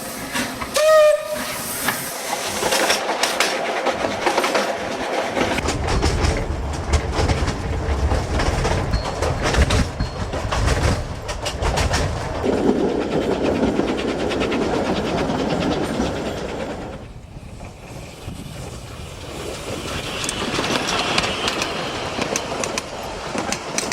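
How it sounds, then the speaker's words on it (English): An Isle of Man Steam Railway train rumbles and hisses along the rails, loud and close, with a brief whistle near the start and steam noise continuing throughout. "if you come aboard the Isle of Man Steam Railway"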